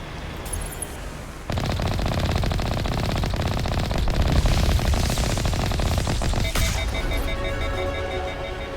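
Rapid automatic gunfire in Mass Effect Legendary Edition on Xbox Series S: after a quieter opening, loud sustained bursts rattle on continuously and fill the rest of the scene.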